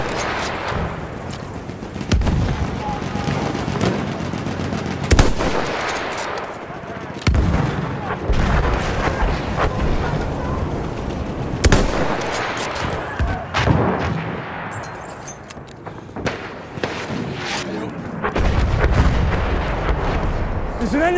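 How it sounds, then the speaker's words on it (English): Battle in Battlefield 1, with heavy enemy machine gun fire, sharp rifle shots and booming artillery blasts in irregular bursts, some close and loud, others farther off, with voices calling out between them. "There's an enemy machine gun!"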